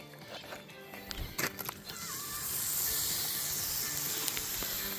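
A pan of breadcrumb stuffing sizzles as beer is poured in, the steady hiss swelling and then holding at a constant level, with a few light clinks and scrapes near the start and no talking.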